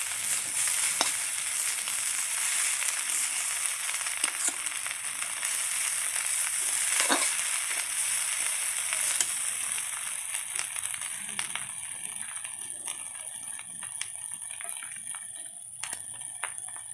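Gobindobhog rice ghugni sizzles and fries in a pan while being stirred, a steady bright hiss with scattered scraping clicks from the spatula, close and continuous without talk.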